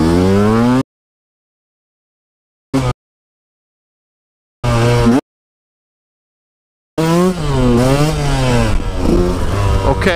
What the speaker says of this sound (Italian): voi gli date quella smanettata di gas più potente che vi farà sì che alzerà la moto